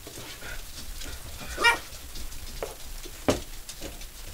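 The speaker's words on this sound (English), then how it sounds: "the dogs hate the dog clock" A novelty dog clock gives a few faint, short barks and yips in a home kitchen during cooking, with a sharp louder bark near the middle and another later over quiet background noise.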